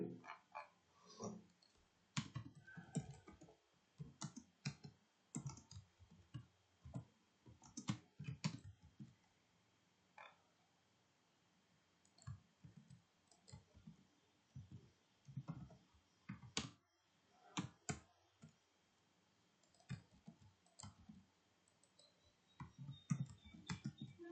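Keys clatter on a computer keyboard during a JavaScript coding session, with irregular bursts of close, crisp taps separated by short pauses, no talking over them.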